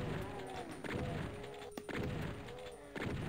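Gunfire from the video game DOOM, a steady run of shots and thuds in busy game audio with faint background sounds, no talk over it.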